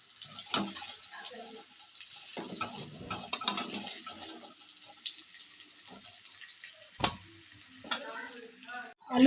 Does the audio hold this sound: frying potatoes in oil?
yes